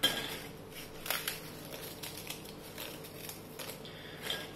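Petit beurre biscuits snapped and crumbled by hand for a mosaic cake, giving faint, scattered dry cracks and light crunchy clicks in a quiet kitchen, with a few sharper snaps standing out.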